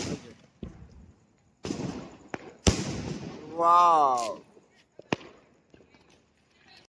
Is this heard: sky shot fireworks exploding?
yes